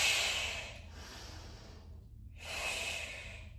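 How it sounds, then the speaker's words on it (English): A slow, deep breath in during a mat Pilates stretch, airy and close, rising over about two seconds, then a pause before a second long breath begins; soft low background hum underneath. "Deep inhale."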